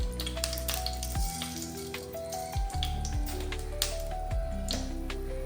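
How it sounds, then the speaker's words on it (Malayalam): Mustard seeds crackle and pop in sizzling hot coconut oil, a busy scatter of sharp snaps over soft background music. "കടുക് പൊട്ടി വന്നിട്ടുണ്ട്"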